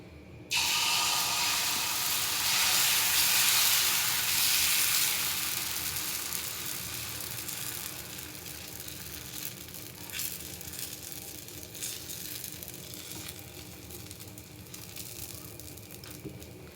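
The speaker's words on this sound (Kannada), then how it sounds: "ಇವಾಗ ದೋಸೆ ಹಾಕ್ಕೊಳ್ತೀನಿ." Green gram dosa batter poured onto a hot dosa griddle, a sudden loud sizzle and hiss that swells and then slowly fades to a steady, quieter frying crackle.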